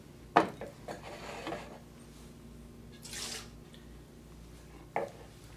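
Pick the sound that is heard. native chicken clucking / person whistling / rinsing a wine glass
rinsing a wine glass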